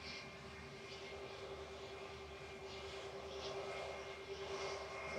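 A Turkish Airlines A321 crossing the runway at Manchester Airport gives a faint, distant, steady engine drone with a thin whine held throughout.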